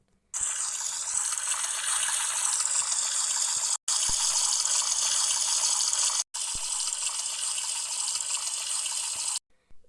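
Steady gush of water from a tap in a Roblox horror game, loud and continuous, broken by two brief cutoffs before stopping, with no talking over it.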